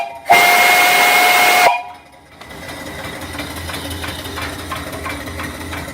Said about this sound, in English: Here's the whistle. Turn down your volume.